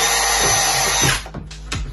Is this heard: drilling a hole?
yes